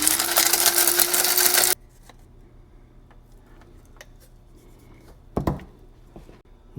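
A loud grinder runs on pounded chunks for under two seconds, then cuts off abruptly, leaving quiet room tone with small clicks and a brief knock near the end.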